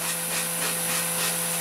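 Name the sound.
sanding block rubbing wood edge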